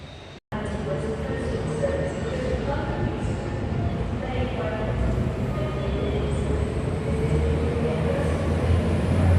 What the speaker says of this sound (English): Service that's just left platform 1 at Preston is for Blackpool South.